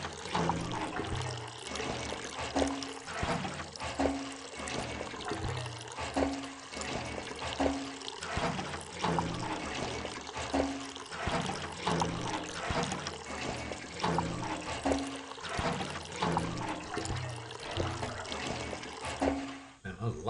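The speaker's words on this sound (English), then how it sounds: "I need to fill up my canteen." Water pours and trickles steadily into a canteen in the survival video game DayZ on PS5, a continuous liquid gurgle running under a voice.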